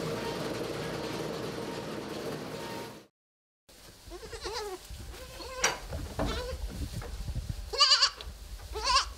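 Goats on a goat farm bleat repeatedly after a brief pause, with several loud, close calls overlapping amid rustling and low machinery noise.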